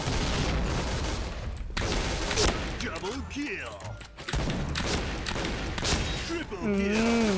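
Gunfire in the shooter game Point Blank: rapid bursts of shots and booming blasts come in quick succession, with a player's voice talking over the action.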